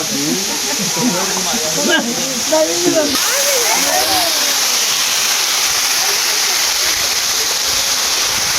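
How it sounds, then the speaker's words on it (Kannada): Manikya Dhara sacred waterfall near Chikmagalur roars as a loud, steady wash of falling water, with voices talking over it at first before the rush carries on alone. "ಇದು ಮಾಣಿಕ್ಯದಾರ ಪವಿತ್ರ ನೀರು"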